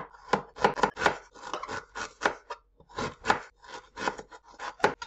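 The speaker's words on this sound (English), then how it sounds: "I'm going to cut the garlic." A knife chops garlic on a board for a Ghanaian tomato stew, with quick, uneven bursts of close, crisp cutting strokes, some in rapid clusters and a few short pauses.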